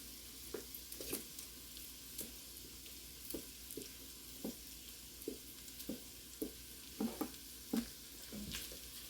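Shredded chicken being stirred into barbecue sauce, with soft, intermittent wet squishing and scraping strokes at a quiet level and no talking.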